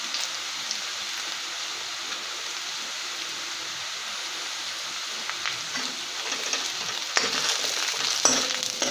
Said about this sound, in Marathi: सुकं खोबरं भाजायला वेळ लागत नाही, ते पटकन करपतं, म्हणून व्यवस्थित हलवून घ्या.